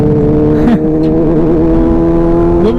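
A motorcycle ridden on the road gives a loud, steady engine drone that rises and falls slightly with throttle changes over a few seconds, with no talking.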